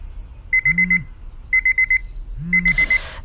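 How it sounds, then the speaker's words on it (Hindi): An alarm clock beeping in three bursts of four rapid tones, loud and close, with a faint low hum between rings. "अगले 15 मिनट में 3 बार और अलार्म बजेंगे।"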